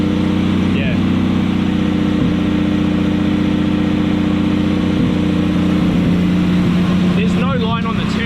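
A Nissan Cefiro's RB25DET turbo engine idles while warming up, a loud, steady low drone with a constant hum, as people talk over it.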